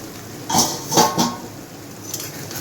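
Metal lid lifted off a pot of rohu fish head curry, then a spoon stirring inside: a few distinct clinks and scrapes close by, with no talking.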